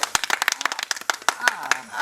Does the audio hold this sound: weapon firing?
no